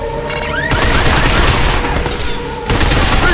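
Rapid gunfire in Binary Domain as shots target the legs of advancing robots, a dense sustained volley of booming bursts with a brief drop in intensity before the firing resumes loudly.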